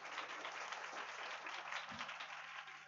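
Audience applause fills a church as a children's choir enters for a mission anniversary celebration, a steady wash of many hands clapping at moderate volume for the whole stretch, with no talk.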